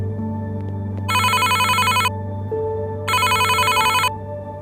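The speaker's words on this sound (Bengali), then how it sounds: "তারপর আবার ফোন করলাম" A cartoon telephone rings twice in electronic bursts, each about a second long with a pause between, over a steady low hum in a ghost-story cartoon scene.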